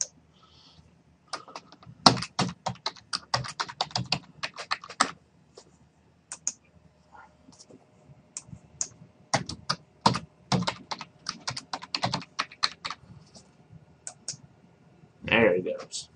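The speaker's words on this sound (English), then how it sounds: "Go ahead and type in your password." A password is typed on a computer keyboard while setting up a remote desktop connection on a thin client. Bursts of rapid, close key clicks are broken by short pauses, with a few louder presses and mouse clicks mixed in.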